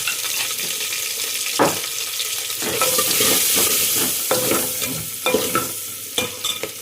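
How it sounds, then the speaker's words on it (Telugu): Turmeric is stirred into okra and tomato frying in a pan for a curry, with a continuous sizzle broken by scraping spoon strokes and a few sharp clatters. "ఇవి మంచిగా కలుపుకోవాలమ్మా."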